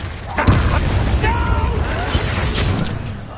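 A Confringo spell in the Hogwarts Legacy video game sets off a heavy boom with a rumbling low blast, followed by more impacts and crackling effects amid the clamor of a battle.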